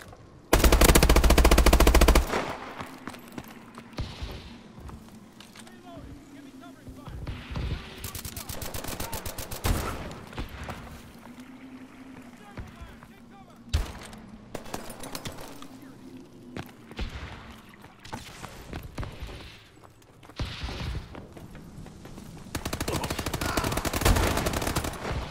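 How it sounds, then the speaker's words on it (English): Gunfire in the Call of Duty: Advanced Warfare video game comes in loud, dense bursts of rapid shots between stretches of quieter background battle. "Sniper fire! Take cover!"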